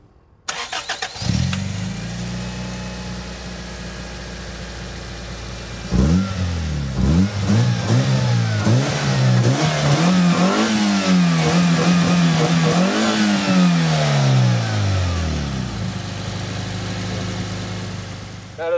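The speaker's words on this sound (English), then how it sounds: "Now let's rev the engine up a bit" A Toyota Corolla AE92 engine idles steadily, then is revved several times, its pitch sweeping up and down through sustained climbs before settling back to idle, loud and close with no talking.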